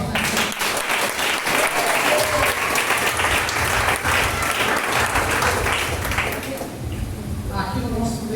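Congregation clapping in praise to Jesus at an evangelical church service, steady dense applause filling the room, with a voice speaking over it and the clapping thinning slightly toward the end.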